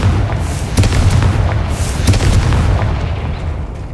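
A Confringo spell explodes in the video game Hogwarts Legacy. Dense booming blasts rumble on without a break, with sharp cracks near 0.8 and 2.1 seconds, loud throughout and with no voices.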